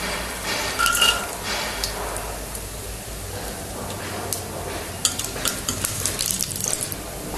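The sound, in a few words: frying chana dal, urad dal and cashews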